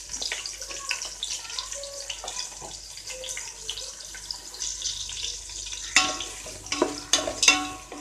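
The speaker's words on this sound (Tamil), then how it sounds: "இந்த வெங்காயம் வந்து நல்லா ப்ரௌன் ஆகிற வரைக்கும் நம்ம வதக்கணும்." Onions and green chillies sautéing in a pan for chicken biryani, a steady close sizzle with scraping stirs and louder clattering strokes near the end, no talking.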